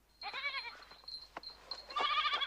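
A young goat bleats in two wavering, nasal cries, close and clear, with quieter bleats in between.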